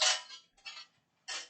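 A small metal tray set inside a basic roasting pan, clattering and scraping in three short bursts of metallic rattle with brief pauses between, close and fairly loud.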